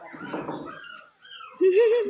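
A dog whimpers and whines in a thin, wavering high tone near the end, after a stretch of muffled, indistinct background voices.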